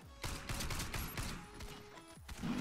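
Shots from an MP 443 Grach pistol in Warface crack in a quick run of sharp, fairly close reports amid other game noise.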